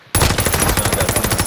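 Rapid automatic gunfire in Call of Duty: Modern Warfare, a loud close burst of evenly spaced shots starting abruptly after a brief quiet moment and continuing without pause.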